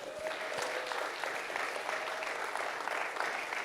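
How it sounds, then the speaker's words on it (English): An audience at a back-to-school event breaks into sustained clapping, a dense, steady wash of applause from a crowd with no talking over it. "Let's clap them up."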